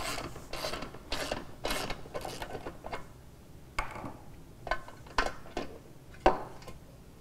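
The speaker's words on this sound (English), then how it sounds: "we'll undo the bolt." Bolt being undone on a Fixol PT-300 belt joining press for polyamide machine tape: a series of close mechanical ratcheting clicks and metallic scrapes, bursts in quick succession then sparser sharp ticks, no talk.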